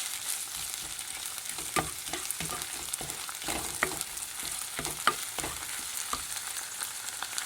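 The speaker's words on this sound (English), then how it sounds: "that's my all green seasoning stuff I made. Give it a stir." Homemade all-green seasoning frying in a pot, a soft steady sizzle broken by irregular scraping clicks of a spoon as it is stirred, close and fairly quiet, with no talking.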